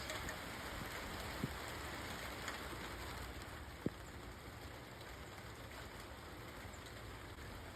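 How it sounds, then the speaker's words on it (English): Steady rain falling outdoors, a dense continuous hiss of drops on surfaces with a couple of faint clicks, even and moderately quiet, no voices. "This is officially a real rain, not just little transpiration exchanges."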